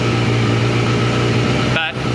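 A Suzuki GSX 750F motorcycle engine idles steadily during carburettor synchronisation, a close, loud, even hum that briefly dips near the end.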